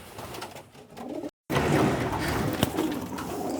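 Racing pigeons coo close by in soft, throaty bursts, mixed with rustling and shuffling, with a brief gap of silence partway through.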